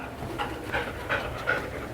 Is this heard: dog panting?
yes